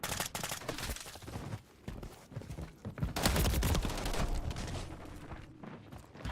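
Rapid gunfire and explosions in the video game Call of Duty Modern Warfare III, sharp repeated bursts and blasts close by, with brief gaps and a dense volley building toward the end.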